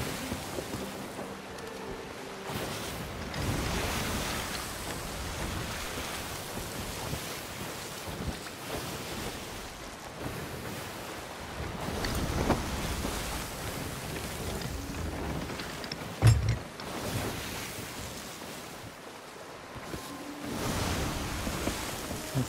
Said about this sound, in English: And the waves are kind of choppy, pushing us even further west.